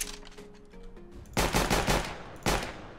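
Automatic gunfire in CS:GO, with a long, loud burst of rapid shots followed by a second sharp burst, standing alone without talk over a quieter stretch of game sounds.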